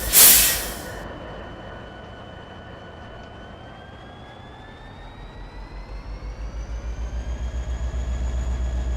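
Train in Farming Simulator 22 gets under way in a rail yard, a low rumble with rising whine and steady rhythmic clatter that builds and grows louder after a brief loud burst at the start.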